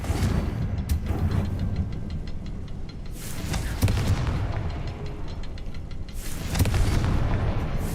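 Repeated fiery blasts from the Confringo spell in Hogwarts Legacy, several loud booming explosions with crackling bursts over a continuous rumbling game backdrop, no speech.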